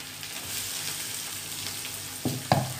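Chopped onion sizzles steadily in hot oil in a kadhai, a constant close frying hiss, with a couple of sharp utensil clinks near the end.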